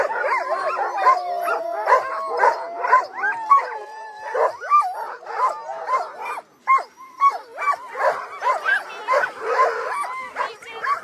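A pack of sled dogs howls together in a chorus of long wavering howls mixed with yips and whimpers at the Tolsona Lake checkpoint of the 2022 Copper Basin race in -40F cold, loud and continuous throughout.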